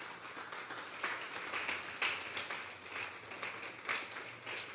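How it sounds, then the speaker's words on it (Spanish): A church congregation at a Sunday service applauding together, a steady wash of many hands clapping that carries on evenly at moderate level, heard from within the room. "Vamos a darle un fuerte aplauso pues al Señor."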